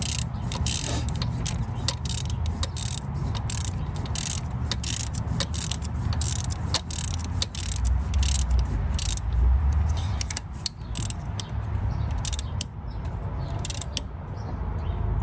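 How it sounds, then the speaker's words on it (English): A ratchet tightens the top alternator bolt on a Honda Accord, a loud, close, steady run of rapid clicking strokes lasting the whole stretch, with no talking. "just going to go ahead and tighten up the top now"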